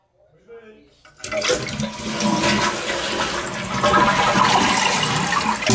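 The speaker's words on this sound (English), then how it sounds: "I'll flush it again." A first-floor toilet with a major water leak flushes close by: a brief handle clunk, then a sudden loud rush of draining water that swirls and builds steadily, with a voice speaking briefly over the start.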